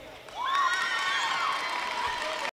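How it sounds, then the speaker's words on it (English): Spectators at a men's singles badminton match at the 2013 Irish Open break into loud cheering and whooping, a sudden swell of crowd noise that holds for about two seconds. "The crowd are loving it."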